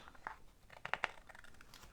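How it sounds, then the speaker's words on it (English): Scissors snipping around the edge of a paper flap during a papercraft session, a few quick, faint crisp cuts clustered near the middle, with soft crinkling around them and no talking. "We're just going to grab our scissors"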